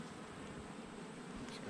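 Honey bees hum steadily during a state apiary inspection of a hive being checked for American foulbrood, a close, continuous drone that rises slightly toward the end.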